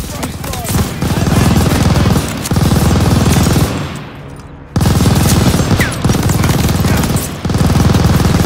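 Machine gun fire in the World War II shooter Call of Duty: Vanguard, loud sustained bursts broken by short pauses, with shouted voices mixed in.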